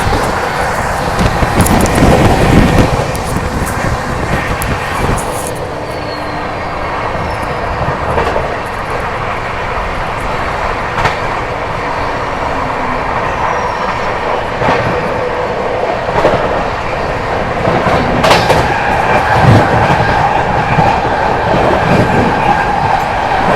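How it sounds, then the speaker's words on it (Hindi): The Sampark Kranti Express runs through Khurja Junction without stopping, a loud, close, sustained rumble of wheels with clickety-clack over the rails and occasional sharper rattles throughout. "स्किपिंग खुर्जा जंक्शन फ्लैट 130 पर।"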